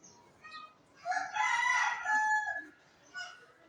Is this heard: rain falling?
no